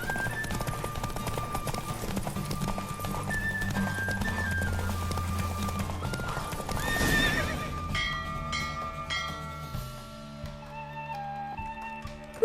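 Galloping hoofbeats and horse whinnies in a video game, over a steady musical score, with a rushing swell midway before the music continues alone.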